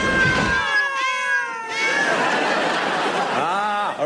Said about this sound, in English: A room full of cats